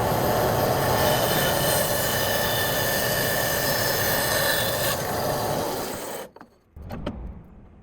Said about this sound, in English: So time to rough cut the blank for the tenons. Do this on the bandsaw.